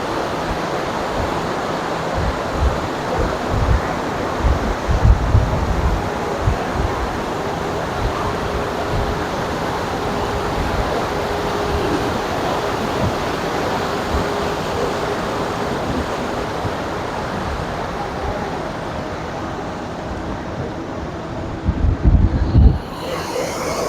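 A glacial mountain river on the Gangotri to Gomukh trek rushes in a steady, dense roar that fills the whole stretch, loud and unbroken, with faint rumbling thumps underneath.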